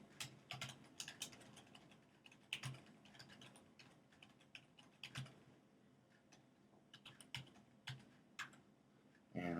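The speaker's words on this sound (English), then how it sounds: "I'm going to type wget" Quiet, close keystrokes clatter on a computer keyboard as a wget command is typed into a PuTTY terminal, coming in irregular bursts and short runs with pauses between, ending in a louder thump.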